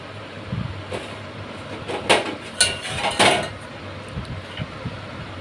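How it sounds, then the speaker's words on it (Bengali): Cooked shukto is scraped and poured from a heavy kadai with a metal spatula, giving several loud clanks and scrapes of metal on metal close by, spaced irregularly against quiet kitchen background. "এবার আমি শুক্তোটা ঢেলে নিচ্ছি"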